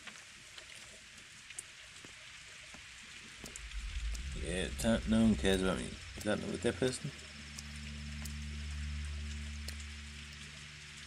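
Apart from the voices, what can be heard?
rain falling in the video game Pathologic 2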